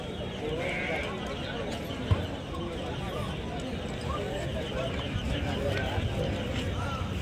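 Goats bleat at the Kadiri Tuesday livestock market. Their scattered calls rise over a constant crowd murmur and nearby talking, with a single sharp knock partway through.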